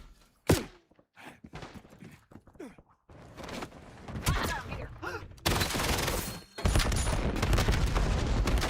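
Machine gun suppressing fire in a video game, with scattered shots and impacts early and then a dense, sustained roar of fire in the second half, under occasional game voice lines.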